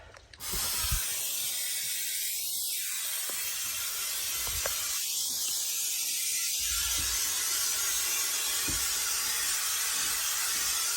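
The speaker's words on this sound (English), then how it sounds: "Just spray the whole lot there" Adhesive sprayed from a can onto carpet lining a VW T5/T6 van interior: a steady hiss runs throughout, with two longer swelling bursts standing out near and fairly loud.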